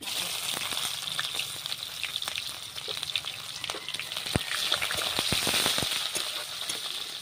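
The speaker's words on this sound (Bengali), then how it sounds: "ওর মধ্যে দিয়ে দিচ্ছি পেঁয়াজ কোচানো" Chopped onion sizzles and crackles steadily in hot oil with dried red chillies already fried in the pan, joined by scattered sharp pops and a few stirring clicks throughout.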